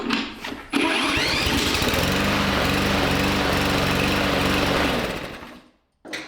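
Small gas engine, just repaired, revving at high speed with a rough, buzzing drone that holds steady and loud for several seconds, then drops out briefly before catching again; no one speaks.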